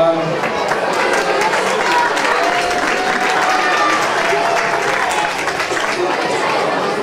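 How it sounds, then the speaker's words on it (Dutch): Loud, continuous applause from a crowd welcoming Sinterklaas at a Saint Nicholas celebration, with crowd noise and voices mixed in, sustained throughout without a break. "hier dan nog eens een naderend applaus, Sinterklaas!"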